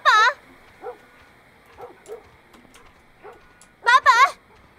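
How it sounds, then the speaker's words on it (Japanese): A dog barks in The Last of Us Part I: a loud bark at the start, fainter yelps and whimpers through the middle, then a loud double bark near the end over quiet game ambience. "ワンコが吠えてる。"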